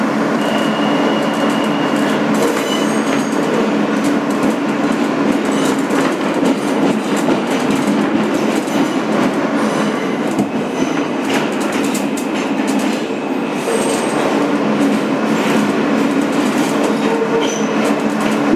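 A 2008 Kawasaki R-160B car on a New York City subway N local train, Sea Beach line, runs in a loud, steady roar with rhythmic wheel clatter and occasional faint squeals throughout.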